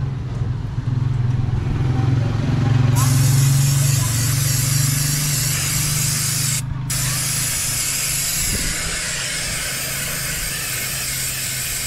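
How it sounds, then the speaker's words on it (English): A loud, sustained aerosol hiss of brake cleaner sprayed onto a car's front wheel hub and rotor begins a few seconds in and continues close by, with a brief pause before spraying resumes over a low engine-like hum. "take our brake cleaner, and give her a spray."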